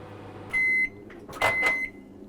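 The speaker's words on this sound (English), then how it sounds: "chuck it in the microwave. Let's fire up a couple of minutes. Let's heat it up." A microwave oven heats a ready meal: a short beep, a soft click, then more beeps over a low, steady hum, all close by.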